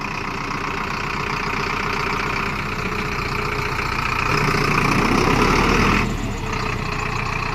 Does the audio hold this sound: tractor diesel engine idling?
yes